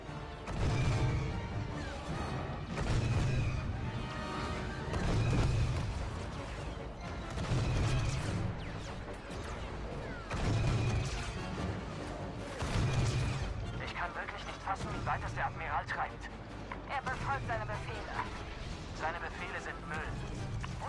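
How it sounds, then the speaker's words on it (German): Blaster gunfire in the video game Star Wars Battlefront II, with repeated sharp shots and booming impacts in bursts, mixed with game music and effects while people speak over the action. "Ich habe mal zwei Schüsse drauf und dann muss es sich kurz laden."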